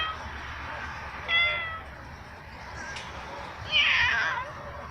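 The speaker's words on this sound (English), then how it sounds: "Sounds vibrato meow" A pet cat meows twice with a wavering, vibrato quality, reacting to birds outside; the calls are moderately loud against a quiet indoor room.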